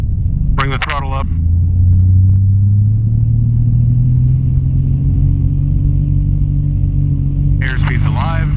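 Sonex light aircraft engine throttling up for takeoff, a loud cockpit rumble whose low drone climbs steadily in pitch as power rises, with brief bursts of talk near the start and end.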